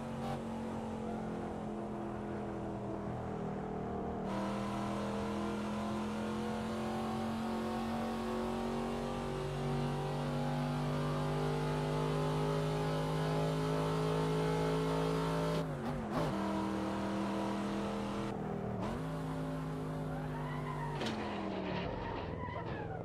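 A car engine in the Assetto Corsa racing game drones and revs steadily, pitch rising and falling as it accelerates, with a couple of brief cuts and a short tire-squeal-like sweep near the end, loud and close without speech.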